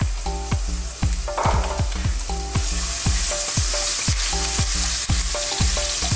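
Garlic, ginger and fresh chili frying in hot oil in a preheated pan for a chili prawn stir fry: a steady, bright sizzle runs throughout under rhythmic background music with a regular beat.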